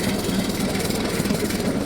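Small BT200X mini bike engine droning steadily up close while riding over ice, a continuous low buzzing rumble with slight fluctuations throughout.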